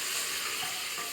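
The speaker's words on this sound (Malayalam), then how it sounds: "എണ്ണ ചൂടായി, നമുക്ക് കടുക് ഇട്ട് കൊടുക്കാം." Mustard seeds crackle and sizzle steadily in hot oil while tempering for a Kerala raw papaya curry, a dense, continuous frying hiss close up with no voices.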